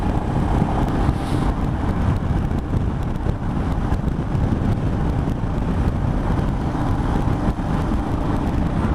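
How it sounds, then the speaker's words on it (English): A Royal Enfield Himalayan motorcycle runs steadily at speed, its exhaust a low, even drone mixed with heavy wind rush across the microphone, continuous and loud throughout with no speech. "the exhaust note's quite nice. It's not offensively loud, but it actually sounds quite nice"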